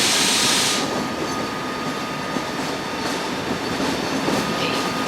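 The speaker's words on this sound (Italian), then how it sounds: "the scheduled departure at 12 p.m. is now arriving at platform 6." An ÖBB Eurocity train hauled by a 1216 Taurus locomotive arrives at Verona Porta Nuova station. It rolls in with a loud, sustained rumble and faint wheel clatter and squeal, with no talking.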